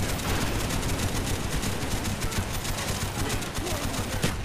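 Suppressing gunfire in Call of Duty Black Ops crackles as a dense, continuous stream of rapid shots, fairly quiet and unbroken throughout.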